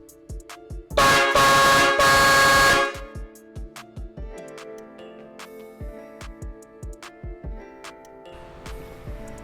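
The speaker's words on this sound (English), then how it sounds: "I've got the air horns right here connected to the air compressor line" Vixen VXH4124XLB air horns fed by an air compressor line, fitted for a 1952 Chevy 3100 project, blare in one loud sustained blast of nearly two seconds, followed by clattering taps and knocks close by.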